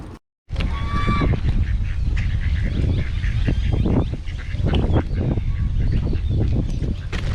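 Waterfowl at Lake Miramar call loudly and close by, a busy overlapping chorus of honking and quacking calls repeating in quick bursts after a brief silence at the start.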